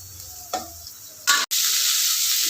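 Pirandai (adamant creeper) sautés in a pan for a thuvaiyal, starting with a faint sizzle and a couple of stirring scrapes, then a sudden loud, steady hiss of frying that holds to the end.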